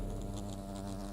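Wasps summoned by the Wasp Queen in Fable Anniversary buzz in a dense, steady drone of wings, close and continuous, with no voices over it.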